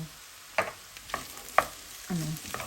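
Sisig is stirred and mixed with oyster sauce in a pan, giving a few soft scraping strokes and light clatters against a faint sizzle, quiet and close, with no talking.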